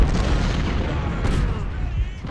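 Cannon artillery fire in the Civil War strategy game Ultimate General: Civil War comes through as a continuous low, rumbling wash of deep booms at moderate loudness.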